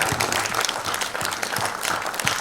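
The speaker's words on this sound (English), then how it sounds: "a huge round of applause to the entire team of Warrior Hunt" Audience applause fills a press conference hall, a steady dense patter of many hands clapping at close to moderate distance, with no speech over it.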